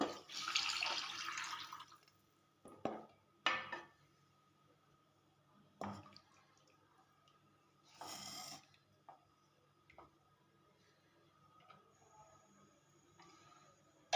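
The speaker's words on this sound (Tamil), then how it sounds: "தேவையான அளவுக்கு தண்ணி ஊற்றிக்கலாம்." Water poured into a pan of garlic gravy, a brief splashing rush at the start followed by scattered faint bubbles and small clinks in a quiet kitchen.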